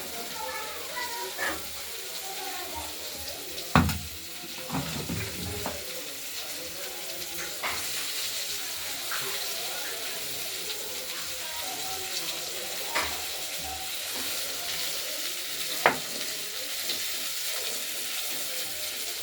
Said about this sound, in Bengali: আলু আর বিনসগুলো ভাজা হোক।